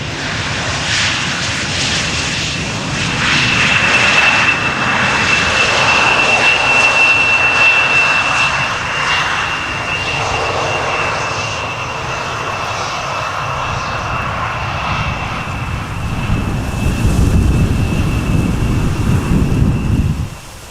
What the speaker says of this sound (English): We do have an Embraer 175 that is arriving from Cardiff over here